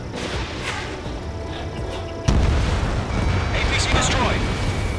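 In the video game Ace Combat 7, a destroyed APC explodes with a sudden heavy boom midway through, over a steady roar of jet engines and battle noise, with radio voices speaking.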